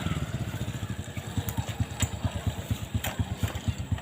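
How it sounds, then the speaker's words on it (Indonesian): A motorcycle engine rumbles close by in a steady, throbbing pulse, its low putter continuing throughout with a few brief higher clicks over it. "Ada suara motor itu, Bang Bule."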